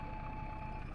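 A sewage vacuum truck in the My Summer Car video game sounds its reversing alarm, a steady, quiet electronic beep tone held over a low engine rumble.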